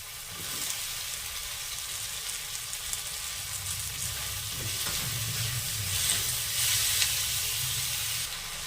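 Tomato and capsicum frying in a pan with salt, a steady close sizzle and hiss with occasional stirring scrapes, no talk.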